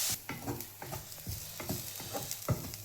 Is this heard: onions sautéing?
yes